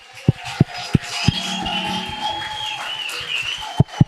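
Audience applause in a church, a sustained wash of clapping with a few sharp, louder claps punctuating it near the start and end, while a voice carries on faintly underneath.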